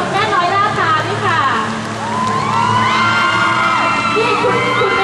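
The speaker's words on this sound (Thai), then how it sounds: "ขอเสียงปรบมือต้อนรับคุณแม่น้อยล่าตาด้วยค่ะ" An audience applauds and cheers to welcome a guest, the mother Noi, at a Thai interview event: dense, steady clapping mixed with whoops and excited crowd voices throughout.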